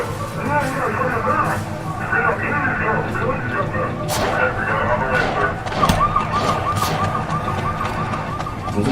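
Police and ambulance sirens wail as they respond to a residential street, a steady wavering tone running under music and talking voices.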